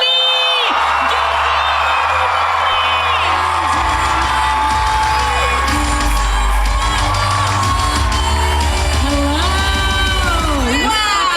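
A packed convention hall audience at a Megacon Q&A panel cheers and whoops loudly and continuously, dense crowd roar with shouts rising over a steady low rumble of amplified sound.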